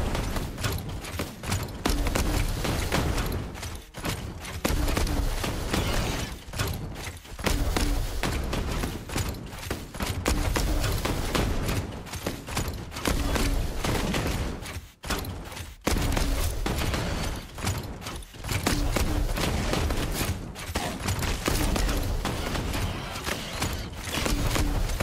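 Double mortar firing in the video game REMEDIUM: Sentinels, a loud, dense and continuous barrage of heavy blasts with brief dips in intensity, no voices.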